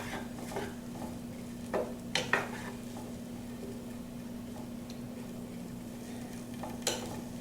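Broccoli sautéing with garlic and oil in a pan, heard as a quiet hiss under a steady low hum, broken by a few sharp clinks and scrapes of a utensil against the pan.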